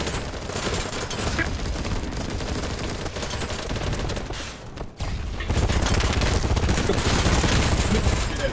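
Dense, continuous gunfire in a first-person shooter video game, loud and unbroken across the whole stretch, with a brief dip near the middle before an even heavier burst resumes.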